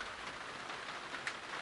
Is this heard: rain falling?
yes